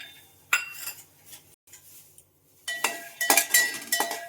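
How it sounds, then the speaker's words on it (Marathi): Peanuts are dry-roasted in a pan, and metal utensils scrape and clink against it in short bursts separated by brief quiet gaps, busier near the end, close and without talk. "मी शेंगदाणे भाजून घेते. शेंगदाणे भाजून घेऊया आपण."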